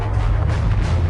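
A comet explosion effect bursts above North America as a massive detonation, heard as a loud, deep rumbling roar that sustains for about a second with low-end weight.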